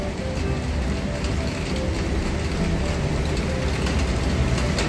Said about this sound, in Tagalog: Ayan na, lakas na ng ulan.